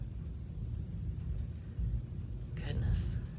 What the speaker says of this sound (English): That's some roll of thunder.